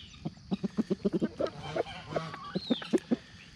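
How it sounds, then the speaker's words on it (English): A chicken clucks repeatedly while pecking at papaya seeds, giving a quick run of short, close clucks followed by a few softer calls and a brief squawk near the end. "Well, this chicken likes them."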